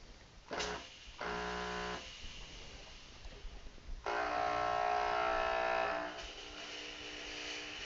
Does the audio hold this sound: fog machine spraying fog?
yes